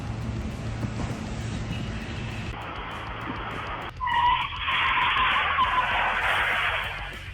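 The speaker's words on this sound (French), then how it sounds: "un bus hors de contrôle a failli la percuter" An out-of-control bus skids with a loud, sustained tire squeal, harsh broadband scraping that swells midway and carries on steadily to the end, over a low engine rumble.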